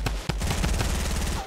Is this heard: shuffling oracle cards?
no